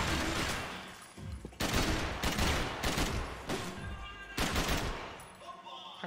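Bursts of heavy gunfire in Max Payne 3, several loud volleys of rapid shots with short gaps between them, full and close, with music running underneath.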